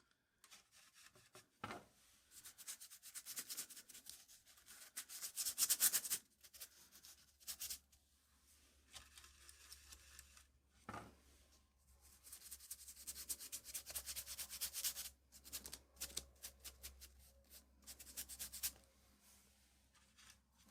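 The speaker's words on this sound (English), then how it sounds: "I'm going to put just a little bit of paint on it and I'm going to scrub it on" Acrylic paint scrubbed with a brush onto a mixed media art journal page, giving close, dry rubbing and scratchy strokes in irregular bursts with brief pauses, no talking.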